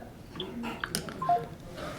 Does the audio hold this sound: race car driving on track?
no